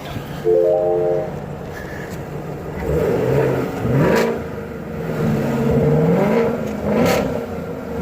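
A sports car exhaust revs up and down in several loud surges, a throaty engine note rising and falling over about eight seconds.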